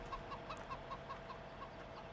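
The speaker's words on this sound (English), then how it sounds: "can hear the chickens, nice little chicken run" Chickens clucking in a chicken run in the video game Farming Simulator 2017, a series of soft repeated clucks over a low ambient background, moderately distant with no talk.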